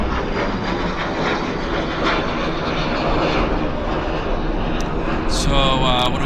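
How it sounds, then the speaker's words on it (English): A United Airlines Boeing 737, in from Chicago, taxis at Vancouver Airport, giving a steady, broad jet-engine roar that holds throughout, with a higher whine rising near the end. "In from Chicago, it's the United Airlines 1958 737."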